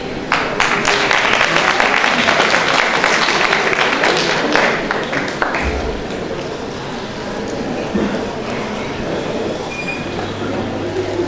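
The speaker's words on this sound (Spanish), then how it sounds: "La recibimos con un fuerte aplauso." Conference audience applauding as a speaker is welcomed at a talk on pediatric celiac patients and the gluten-free diet, a dense wash of clapping that softens partway through into a lower, steadier rumble.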